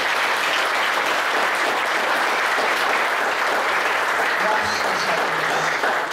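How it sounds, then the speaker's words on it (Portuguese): Steady, dense applause from a congregation at a Portuguese-language church service carries on throughout, with a voice speaking briefly over it near the end. "Vamos aplaudir ao Senhor Jesus."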